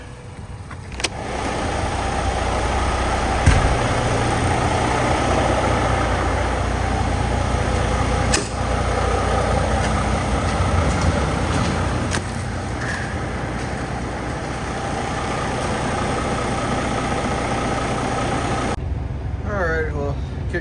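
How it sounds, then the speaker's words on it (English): A pickup truck engine idles outdoors on a snowy Illinois morning while warming up, a steady, continuous low rumble that holds evenly for about twenty seconds before cutting off near the end. "I gotta let the pickup truck sit outside and wake the whole neighborhood up for 45 minutes"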